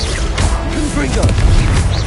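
Loud booming and crashing from a Confringo blasting spell in Hogwarts Legacy rolls on without a break, with game voices mixed in under the rumble.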